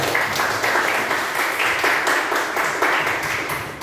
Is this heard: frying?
no